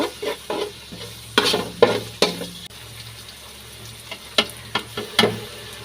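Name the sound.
frying onions with bay leaf, cloves, cardamom, cinnamon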